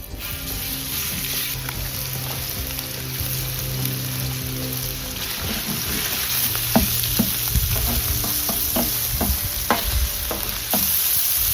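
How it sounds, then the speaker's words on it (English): Spanish chorizo sizzles in a paella pan, a continuous frying hiss with occasional sharp pops and crackles that grow more frequent toward the end. "we're gonna get this started with some chorizo from Spain"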